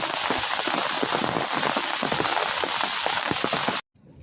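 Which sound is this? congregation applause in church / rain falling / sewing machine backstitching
rain falling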